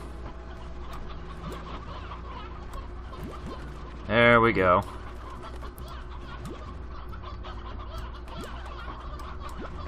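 Chicken clucking in the video game Slime Rancher comes as a short, loud burst of rapid clucks standing out over steady game background sound, with a person talking.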